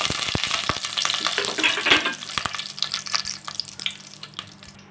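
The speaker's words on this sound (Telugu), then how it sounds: "ఇదిగోండి, ఇలా దోరగా వేపుకున్నాను" Dry fruits frying in a spoonful of ghee for carrot halwa, a close sizzle with sharp clicks of a spoon stirring against the pan, fading toward the end.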